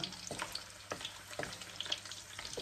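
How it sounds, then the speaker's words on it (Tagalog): Squid sizzles and crackles in a pan for adobong pusit, soft frying hiss broken by a few stirring scrapes and pops, close but fairly quiet, without talk. "ipiprito natin"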